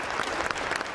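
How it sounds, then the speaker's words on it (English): A crowd at a new governor's inauguration ceremony giving a standing ovation, dense sustained clapping filling the space. "The crowd, glued to a live stream, cheered as the First Lady made her way to the stage and gave the new governor a standing ovation"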